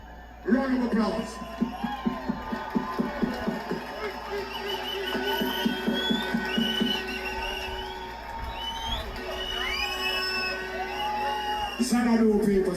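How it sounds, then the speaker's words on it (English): A crowd at a live reggae show in England whoops, yells and cheers, with a rhythmic pattern of claps early on, while a performer's voice sings and talks over the loud, sustained crowd noise. "Round of applause"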